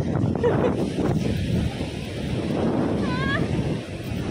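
Rough sea with wind gusting across the microphone at a shoreline in Kamisu, Ibaraki, Japan, a steady broadband roar of surf and wind buffeting, with brief voices mixed in.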